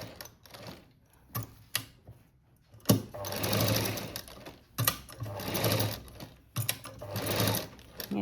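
Short, close bursts of a sewing machine stitching blouse fabric, rhythmic needle clatter starting and stopping, with quieter pauses of handling between runs.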